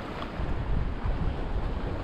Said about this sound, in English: it's not supposed to be this windy to start with